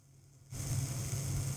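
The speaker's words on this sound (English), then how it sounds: "There's a good sizzle." A steady, close hiss of food sizzling that starts abruptly and holds loud and even, with a low hum underneath.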